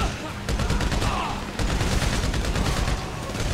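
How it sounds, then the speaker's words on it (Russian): Rapid automatic gunfire in the video game GTA V during a shootout, continuous loud bursts of rattling shots with a short break midway, dense and close throughout. "стрельба пошла"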